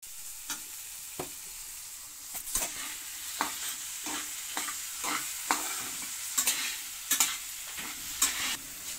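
Peas, tomato and egg fry in a pan with a steady soft sizzle, broken by frequent quick scrapes of a spatula stirring them, close and fairly quiet.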